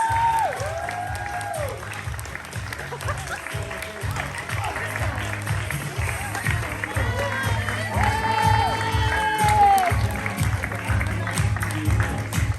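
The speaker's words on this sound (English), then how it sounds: "Give them a round of applause." Applause rolls through the crowd at the Bankstown Poetry Slam for the winners, steady clapping mixed with scattered whoops and voices rising above it, lasting several seconds.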